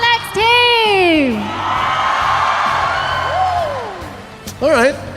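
At an esports arena, a loud crowd cheers for team ONIC in a sustained roar, while a voice whoops over it near the start and again near the end.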